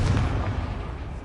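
A Confringo blasting spell detonates in the game Hogwarts Legacy, a single deep booming explosion that hits hard at once and rumbles away over about a second, with no talk over it.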